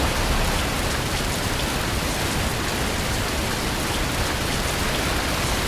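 Heavy rain in Fernbus Simulator, a coach-driving game on a trip to Paris, pours in a loud, dense, constant hiss with no pauses and no talking.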